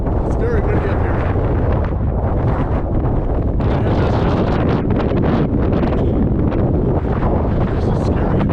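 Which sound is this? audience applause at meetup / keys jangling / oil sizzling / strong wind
strong wind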